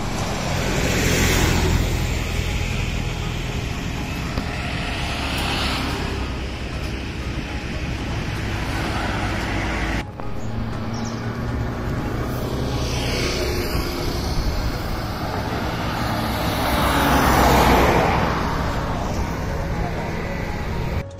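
Road traffic at the weekly Friday market in Mapsa: a steady, dense roar of passing vehicles and engines fills the whole stretch, swelling now and then as something passes close.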